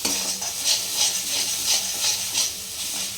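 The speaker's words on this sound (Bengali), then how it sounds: "এইভাবে একটু ভালো করে কষতে হবে নাকি?" Tomatoes and a ground spice paste being stirred in a hot pan for a fish curry. The mixture sizzles and hisses steadily with a spatula scraping in soft, regular strokes, close and alone.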